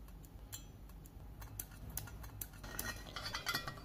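Homemade welder built from a switching power supply, its carbon rod arcing a metal tab onto a stainless steel plate, giving off faint, irregular crackles and sharp ticking spark pops that grow busier toward the end.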